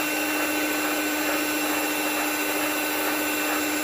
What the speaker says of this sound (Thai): ปั่นต่อนะคะ อันนี้เราจะไม่ปั่นนานนะคะ ปั่นแค่แป้งเข้ากันดีนะคะ